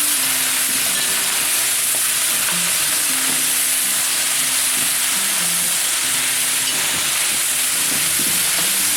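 Big fat chunks of sweet potato stirred into frying Trinidad curry crab give a loud, steady sizzle and hiss, with scraping stir sounds from the pot running continuously and no talking.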